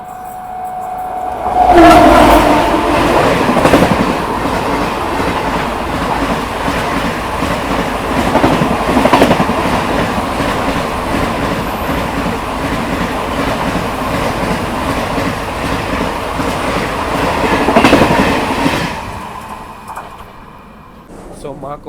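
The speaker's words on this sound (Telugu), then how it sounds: "ఆపోజిట్ ట్రాక్లో ఆపోజిట్ డైరెక్షన్ నుంచి ఇంటర్సిటీ ఎక్స్ప్రెస్ అయితే వచ్చి మనకైతే జింగ్ అవుతుంది" An Intercity Express passes on the opposite track beside a Lingampalli–Tirupati Narayanadri Superfast Express coach: a loud, sustained rushing rumble with rhythmic wheel clatter that swells and holds for about seventeen seconds, then fades away.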